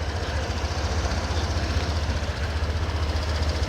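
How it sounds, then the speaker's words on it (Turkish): A 2016 Honda PCX scooter engine idles nearby, a steady low rumble with quick, even pulsing and no talk over it. "Egzoz farkı olarak ise size motorları bir çalıştırayım."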